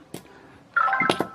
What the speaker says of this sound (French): paniquez pas, c'était mon téléphone